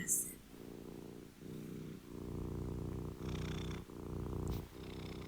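A cat purrs close by in a quiet room, a low rumbling purr in rhythmic cycles with brief pauses between breaths, faint and steady.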